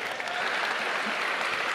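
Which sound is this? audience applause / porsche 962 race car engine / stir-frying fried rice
audience applause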